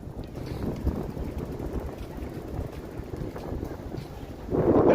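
Gusty wind buffets the microphone on a snowy Toronto street in the evening, a steady low rumble with brief surges and a stronger blast at the end; no one speaks.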